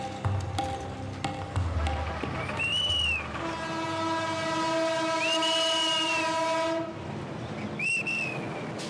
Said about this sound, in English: the train, which is transporting Safiq the Imam and his pilgrims, is making slow progress towards Dhaka